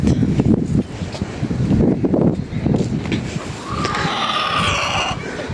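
Wind gusting across an allotment in October, battering the flowers, with rumbling microphone buffeting and rustling in uneven gusts, loud and close throughout.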